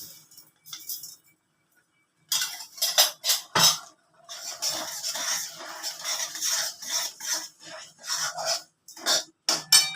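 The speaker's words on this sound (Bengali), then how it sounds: "এবার আমি ছোলার ডালটা এর মধ্যে মিশিয়ে দিচ্ছি" Chana dal dust being stirred into cardamom-scented sugar syrup in a pan with a metal spoon, giving repeated scraping clinks in short bursts with brief pauses between them.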